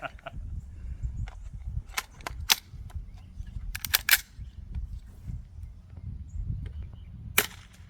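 Suppressed AR-style rifle with a .22 LR conversion fired outdoors: roughly ten sharp, dry cracks spread irregularly over a few seconds, a couple in quick pairs, over a low rumbling background.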